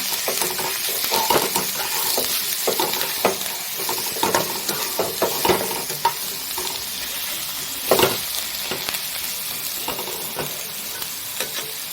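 Prawns with salt, turmeric and chili powder stirred in hot oil in a pan, a steady close sizzle with repeated scraping stirs and occasional sharper clinks throughout.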